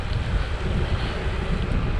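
Constant southerly wind buffets the microphone of a cyclist riding downhill on a tree-lined country road toward Palkonya and Villány, a steady low roar and rumble filling the whole stretch with no voices.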